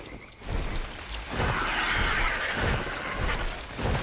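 Steady rain in the survival video game ARK, a dense continuous hiss with low rumbling that sounds like distant thunder, filling the whole stretch with no talking over it.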